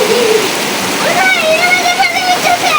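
Heavy rain pours down on a leaky village kitchen, a loud unbroken roaring wash of water, with a voice talking over it.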